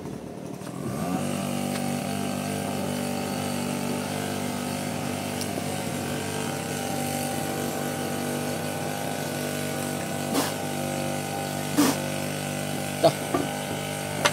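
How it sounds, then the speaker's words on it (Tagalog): A vacuum cleaner runs with a steady, droning motor hum that starts abruptly and holds an even pitch, with a few sharp clicks and knocks near the end. "Vacuum cleaner."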